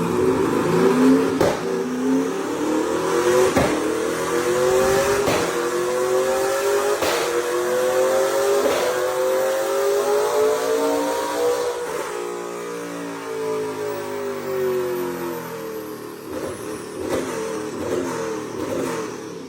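A street-legal 2000-horsepower 1973 Pontiac Trans Am with a twin-turbo LS engine revs loudly and close, climbing through repeated rising pulls before dropping back to a throbbing idle, with no one speaking.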